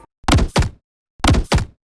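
A fire magic spell sound effect: two pairs of punchy, broadband bursts, each a sharp hit with a short roaring tail, separated by a brief silence; loud and close.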